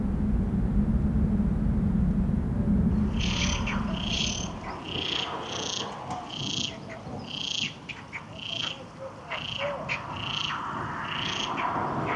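Many frogs croak at a park pond on the outskirts of a Spanish city near the River Tormes. A steady chorus of pulsed, repeated calls starts a few seconds in and continues over low outdoor rumble.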